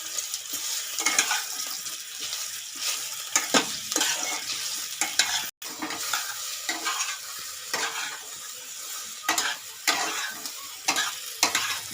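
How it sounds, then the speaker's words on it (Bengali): Soya chilli being stirred and fried in a pan: close, crackling sizzle of oil with repeated scraping strokes of a spatula against the cookware, clattering in irregular bursts throughout. "এবার একটু নাড়িয়ে নিচ্ছি, একটু ভালো ভালো করে ভেজে নিচ্ছি।"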